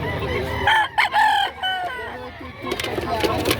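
Chickens cluck and squawk up close in short bursts at a poultry market in Padre Garcia, Batangas, with a rooster-like call among them and faint voices in the background.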